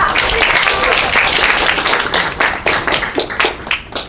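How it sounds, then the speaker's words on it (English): An audience at a tech discussion event applauds, a dense wash of clapping that fills the clip and thins into scattered, separate claps toward the end. "Yay, we can clap."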